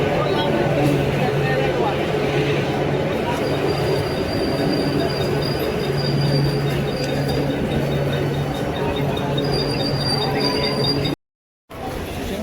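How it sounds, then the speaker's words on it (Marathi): A crowded Borivali local train pulls into the platform at Jogeshwari, with a loud continuous rumble of wheels, metallic squealing and steady rail noise close by throughout. "बोरवली आली ट्रेन"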